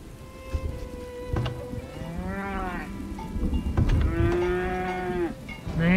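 Cattle mooing in the farming game Farthest Frontier, several long, loud lowing calls in a row from nearby animals, with faint rain-like ambience underneath.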